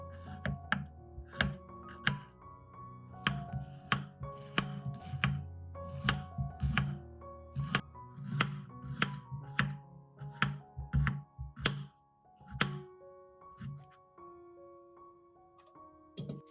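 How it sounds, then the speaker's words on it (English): A knife slices fresh ginger into thin, even pieces about 2 to 3 millimeters thick on a cutting board. The crisp, close chops land in a quick, irregular rhythm with brief pauses. "then slice evenly about 2 to 3 millimeters thick for easier drying and mold prevention"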